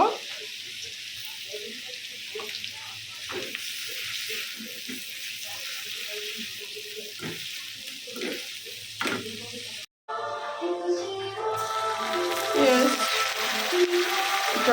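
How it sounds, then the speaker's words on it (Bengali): Sliced onions with a little salt fry in a pan, a steady sizzle running under a person's talk and swelling louder near the end as they are stirred. "সামান্য লবণ দিয়ে পেঁয়াজ সফট করে ভেজে নেব"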